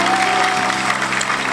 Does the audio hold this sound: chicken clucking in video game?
no